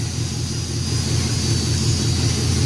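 A car engine with a newly built exhaust replacing open headers idles with a steady low rumble and a faint high whine, continuous and fairly close, with no voices.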